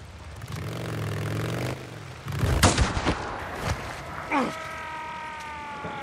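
Sniper gunfire erupts during an ambush in the open-world zombie game Days Gone, with a few sharp cracks and scraping mechanical clatter amid engine hum and game tones, with no voices present.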